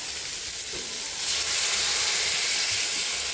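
Bengali fish curry sauce bubbling in a pan, a constant close hissing sizzle with soft popping bursts, rising slightly partway through and staying steady.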